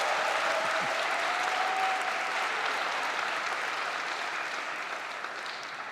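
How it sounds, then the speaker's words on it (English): Commencement audience applauding a graduating chemical engineering senior at a December college ceremony, a steady dense wash of many hands clapping at moderate distance that holds evenly for the whole stretch and thins slightly toward the end. "let us applaud the accomplishments of the graduating senior in chemical engineering"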